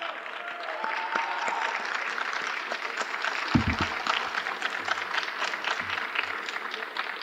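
A crowd at a high school winter sports banquet claps steadily in a dense, sustained round of applause, heard from a short distance with a few louder thumps partway through.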